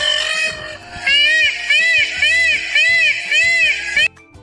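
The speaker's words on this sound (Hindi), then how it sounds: "ये पीकॉक है" A peacock calling, with a run of loud, repeated wailing honks in a steady rhythm, heard close and alone against a faint background.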